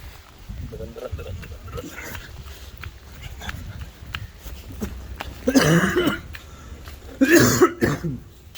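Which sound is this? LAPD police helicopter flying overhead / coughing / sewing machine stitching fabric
coughing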